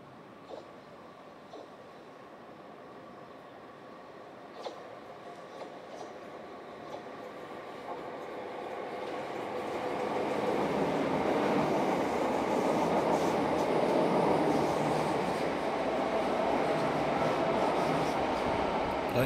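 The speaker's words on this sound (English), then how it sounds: "A class 375 EMU passes the site of the former Dover Town Yard" A class 375 EMU electric train passes the site of the former Dover Town Yard, starting as a distant hum with faint clicks and swelling into a steady, louder rumble of wheels on rail as it draws near.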